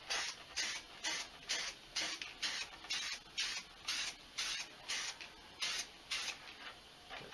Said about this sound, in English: Trying to give it a layer of paint.